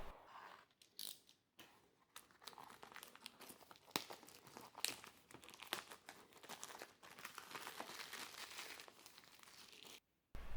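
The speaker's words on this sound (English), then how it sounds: "Now I'm going to use my razor blade in order to cut through this plastic foil." A razor blade slicing and tearing through plastic foil wrapping on a ZimaBoard box, heard as a continuous close, quiet crinkling and crackling for about ten seconds with a few brief pauses.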